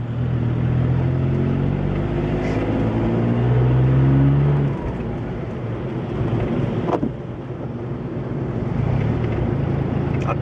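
A car in city traffic pulls away from a standstill at a green light, its engine a steady low rumble that rises and shifts through the first seconds before settling into an even drone, with no talk.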